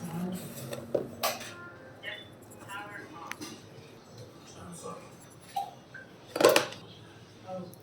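Salt and chili powder being stirred into pakoda flour in a bowl, scattered scraping and clinking of spoon on the bowl over a quiet background, with a louder clatter near the end and soft talking at times.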